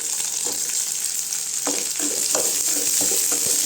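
Pirandai chutney ingredients with coconut being sautéed in a pan, giving a steady sizzle with scattered stirring scrapes and taps, close and without speech.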